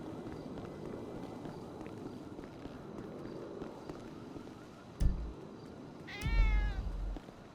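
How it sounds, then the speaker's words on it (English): A single cat meows in a NoPixel roleplay video game, a short rising, wavering call that comes after a low ambient game bed and a sharp thump, fairly close and clear, with no talking over it. "Cat? I heard a cat."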